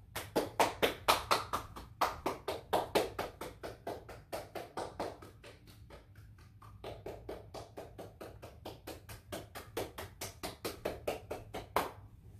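Hands clap in a steady, brisk series, around thirty claps spread over about twelve seconds with a short pause near the middle, crisp and fairly close in a quiet space during a dog training session.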